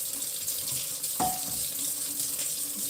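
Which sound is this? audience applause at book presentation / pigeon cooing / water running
water running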